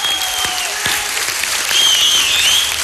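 Studio audience at a televised dance competition grand final applauding and cheering, a dense steady wash of clapping with whoops and whistles rising toward the end.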